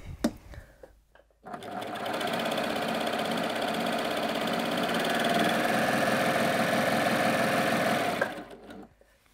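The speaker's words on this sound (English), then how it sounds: "And then I'm going to sew a piece of cotton jersey." A Baby Lock Primo coverstitch machine runs steadily through cotton jersey, a loud, even mechanical whir holding for about six seconds after a brief start, then stopping abruptly.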